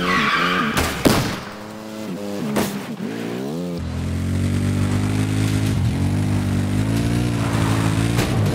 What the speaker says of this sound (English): Now let's get back on a motorcycle, shall we?